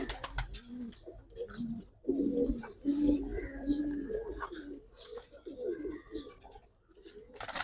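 Giribaz pigeons coo in a loft, a run of low throaty coos layered close together, with people talking nearby throughout.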